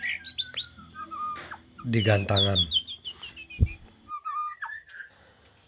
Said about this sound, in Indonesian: Di sini saya melakukan ngetek burung murai batu saya yang lowo ataupun yang oper birahi di depan kandang